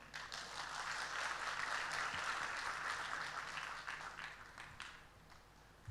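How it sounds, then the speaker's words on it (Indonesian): Church congregation applauding during a sermon, a broad wash of clapping that swells, holds steady, then fades toward the end, heard from some distance in a large room. "Tepuk tangan dong buat Tuhan dong."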